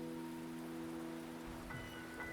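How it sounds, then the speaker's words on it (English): Steady rain falls across an outdoor scene in the video game Wuthering Waves, a soft continuous hiss with faint tonal game ambience beneath, no voices. "The rain is subsiding, and the sky will soon clear."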